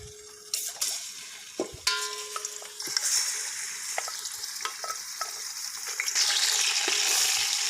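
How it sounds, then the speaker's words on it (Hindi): Mutton pieces frying in hot oil with whole spices like black pepper and cinnamon, steady crackling sizzle with scraping stirs and clinks of a utensil in the pot, growing louder toward the end. "1 से 2 मिनट इसको फ्राई करते हैं गोश्त को।"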